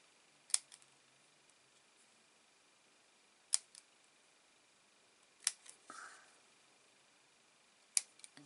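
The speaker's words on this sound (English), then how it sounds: "let's just snip" Scissors snipping through card for a handmade Christmas card: a few crisp, isolated clicks spaced seconds apart, quiet and close, with no talking.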